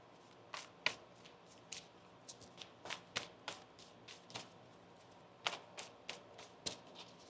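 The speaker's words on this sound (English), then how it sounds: "One more shuffle here." Tarot cards being shuffled by hand, a series of quick crisp riffling bursts and soft taps in irregular clusters, close and fairly quiet with no talking.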